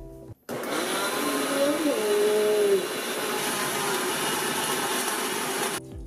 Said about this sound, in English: Dude, you didn't turn on the blender.